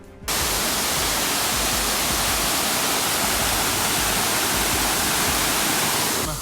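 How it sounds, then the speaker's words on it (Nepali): Steady, close roar of a waterfall about 30 metres high near Temke Dada in Bhojpur, Nepal. It is a loud, unbroken rush of falling water that fills the whole stretch with no voices. "यतिखेर हामी यो झरना आइसकेको छौँ"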